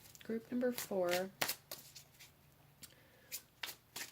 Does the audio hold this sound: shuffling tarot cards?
yes